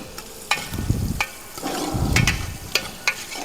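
Onions fry in a pan for Ramadan nombu kanji, giving a steady close sizzle broken by sharp scrapes and taps of a spoon stirring against the pan.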